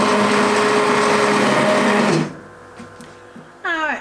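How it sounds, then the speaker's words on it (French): Homemade soup whirring in an electric blender, a loud steady motor drone for about two seconds that then stops, followed by quieter kitchen clatter and a short voice at the end. "je vais mixer ma soupe"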